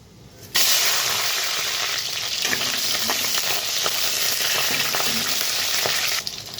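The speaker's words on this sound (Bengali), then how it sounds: "তো মাছের মাথাগুলো আগে ভেজে নেব।" Loud, steady sizzling of hilsa fish heads frying in hot oil, starting abruptly and crackling continuously up close until it drops near the end.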